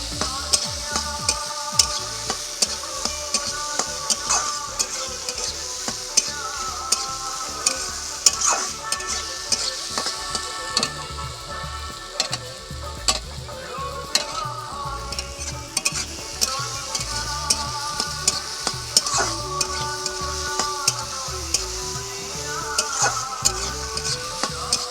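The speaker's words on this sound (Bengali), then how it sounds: "যে দেখুন খন্তা দিয়ে নাড়ছি তো কেটে যাচ্ছে" Chopped tomato and onion with a little salt softening in a pan for kanda poha, stirred with a spatula: dense sizzle with frequent rhythmic scrapes and taps of the metal spatula against the pan, close and continuous.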